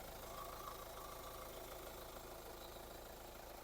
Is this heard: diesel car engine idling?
yes